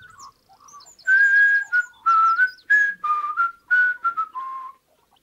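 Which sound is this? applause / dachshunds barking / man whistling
man whistling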